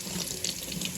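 Tap water runs in a steady, close hiss as snow crab legs are briefly rinsed under a faucet, an even splashing stream throughout.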